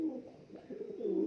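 A pigeon gives soft, throaty rolling coos in a few quick bursts during a fight between pigeons, close and fairly clear with no talking.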